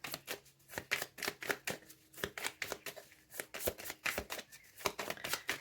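Rapid crisp riffling of tarot cards being shuffled for a reading, a quick run of sharp flicks and slaps close by, with no voices.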